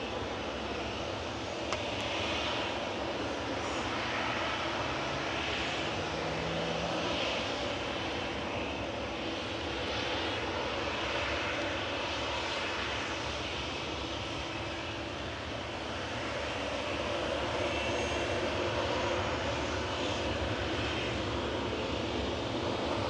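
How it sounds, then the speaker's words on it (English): An Airbus A321neo taxiing at Manchester Airport gives off a steady, moderately faint engine drone with a broad rushing hiss, even and continuous for the whole stretch, with no voices. "It's got a noisy prop coming out."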